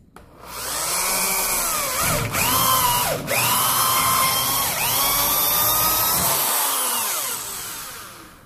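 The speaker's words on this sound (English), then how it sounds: "let's go ahead and drill this bad boy out" A power drill whines loudly and steadily, drilling holes in a car control arm bushing, its pitch dipping and rising as the bit bites in, with brief pauses between bursts of drilling.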